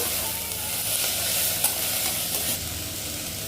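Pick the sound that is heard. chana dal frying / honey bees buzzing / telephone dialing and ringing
chana dal frying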